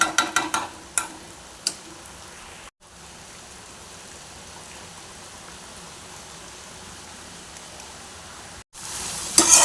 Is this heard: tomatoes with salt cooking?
yes